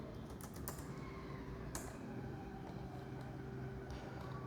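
Keys tapped on a computer keyboard in a short burst of clicks, then a few scattered presses over a steady low background hum, moderately close.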